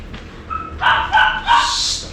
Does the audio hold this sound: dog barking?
yes